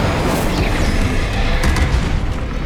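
Fiery spell blasts from the Incendio charm in Hogwarts Legacy, a loud, continuous booming roar with crackling bursts layered throughout, close and dense with no gaps.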